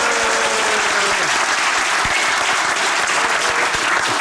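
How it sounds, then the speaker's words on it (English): Studio audience applauds loudly and steadily for a welcomed guest, David Coulthard, on a TV show; dense, continuous clapping fills the whole stretch with little variation. "Give him a round of applause."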